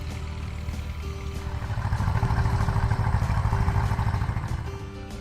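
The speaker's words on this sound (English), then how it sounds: "It's pretty interesting to watch these tractors go." Vintage tractor engines chug and clatter steadily nearby at a pioneer thresher reunion, a rough rhythmic running that swells louder in the middle before easing slightly.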